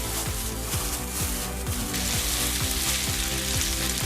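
Beef strips dusted with seasoning salt sizzle and fry in a hot sauté pan, a loud dense crackle with rhythmic pops and spatters close by, no talking.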